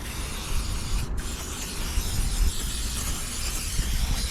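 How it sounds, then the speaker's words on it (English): Aerosol cleaner hisses in a steady, close burst as it is sprayed onto the rough, spotted rear panel of a 2008 Smart Fortwo Pure 451. "Spray that on and leave it."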